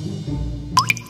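Red food coloring drips into vinegar for a baking soda experiment, a low hum giving way to two quick, close liquid plops near the end.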